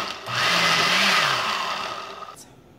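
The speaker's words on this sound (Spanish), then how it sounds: "Ahora los voy a llevar a la licuadora y listo" A blender whirs loudly for about two seconds blending barbacoa sauce, its motor pitch shifting as it runs, then winds down and stops.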